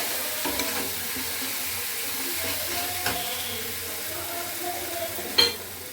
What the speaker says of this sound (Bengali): খুব মশলা ভালো করে কষিয়ে নেব